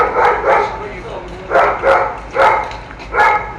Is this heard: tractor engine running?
no